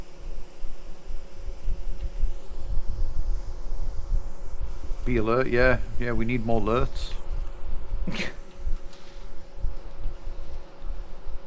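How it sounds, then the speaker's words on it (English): Bees in the survival game Vintage Story hum as a constant low drone running through the whole stretch, steady and moderately close, with someone talking briefly over it midway. "Ah, bees! I hear bees!"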